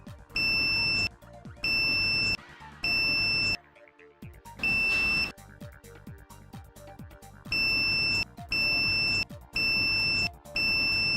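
A multimeter gives loud, steady continuity beeps while probing the windings of a car alternator found shorted, about seven long tones with brief gaps, with some clatter and handling noise between them.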